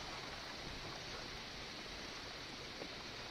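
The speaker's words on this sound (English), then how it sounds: "Water against ice." Steady, soft wash of water lapping against an iceberg, a continuous broadband hiss with gentle swells and no distinct splashes, calm and unhurried throughout.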